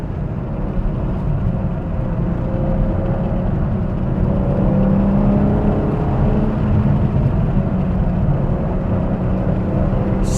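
A BMW M4 Competition sports car driving fast on hilly roads, a steady low engine drone with road and wind noise that rises slightly midway, continuous, with no talk.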